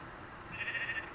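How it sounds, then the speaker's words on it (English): A sheep in the video game Minecraft gives a single short, faint bleat after a moment of quiet background, with no talking. "And there's another sheep."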